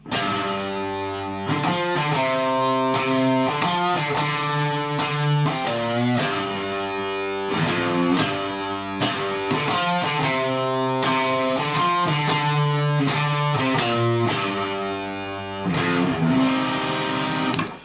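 A distorted electric guitar playing the busy, repeating riff of a song, with quick picked notes and rhythmic chord stabs, loud and continuous throughout.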